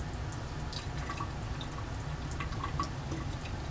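Bromobenzene dripping slowly from an addition funnel during a Grignard reaction in a lab, faint irregular small drips over a steady low background hum.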